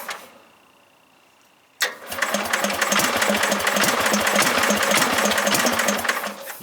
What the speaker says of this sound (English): Let's see if she starts up.